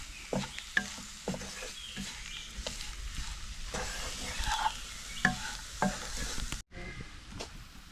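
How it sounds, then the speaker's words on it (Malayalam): Turmeric powder stirred in a frying pan until its raw smell cooks off, giving a steady scraping stir over soft sizzling, with brief utensil knocks throughout and a sudden cut near the end; no one talks. "ആ പൊടി ഒന്ന് അതിൻ്റെ പച്ചമണം മാറുന്നത് വരെ നമുക്ക് നന്നായിട്ടൊന്ന് ഇളക്കി കൊടുക്കാം"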